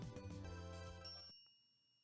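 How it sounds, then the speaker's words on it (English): Bright elevator arrival chime in the video game Steins;Gate, a ringing ding with a shimmering tinkle that sounds cleanly for about a second before cutting off into a fading tail, alone with no speech. "A chime signals our arrival on the 5th floor."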